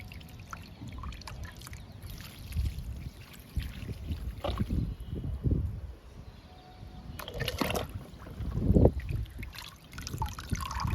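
Liquid fertilizer is poured onto a potted jasmine plant in uneven trickling and splashing bursts, close by, with gaps between pours.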